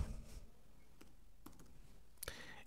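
Computer keyboard being typed on while entering text into a Microsoft Excel spreadsheet, a few faint, sparse key clicks spread across a quiet room with low background hiss.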